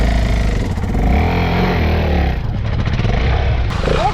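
Small motorcycle engine on an off-road adventure ride, revving loudly and close with rising and falling pitch over a rough mechanical idle, no speech heard.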